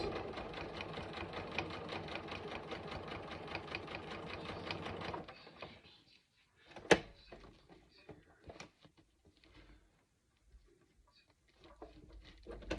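A sewing machine stitches vinyl for a backpack front panel, whirring in a steady close rapid run for about five seconds, then stops, followed by faint handling clicks and rustles.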